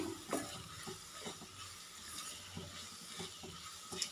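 Sliced onions fry in a pan for a chicken roast, giving a low, steady sizzle with soft scraping and knocking as a spoon stirs them, heard close with no talking.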